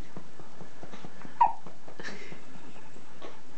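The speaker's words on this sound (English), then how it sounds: "You have the hiccups in Mommy's tummy so often, it's so funny to hear it outside the tummy." A single soft hiccup from a baby breaks a quiet room, with faint breathing around it.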